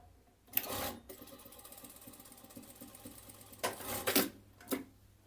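A sewing machine stitching a cheeky bikini bottom runs in two short mechanical bursts, one near the start and a longer stuttering run near the end, with quiet pauses between.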